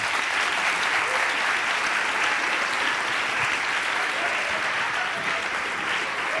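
A studio audience at a Spanish talk-show interview breaks into loud, sustained applause for a guest, a dense wash of many hands clapping steadily from start to finish.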